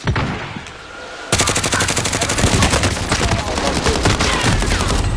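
Rapid automatic gunfire from the Call of Duty: Warzone video game, quieter shots at first, then loud sustained bursts of repeated shots running continuously to the end.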